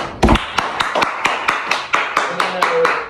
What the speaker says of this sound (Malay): Tepuk tangan sikit semua